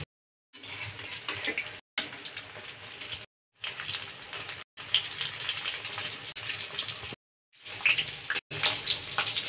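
Gourd chops fry in hot oil, giving a steady sizzling crackle in several bursts broken by short silences.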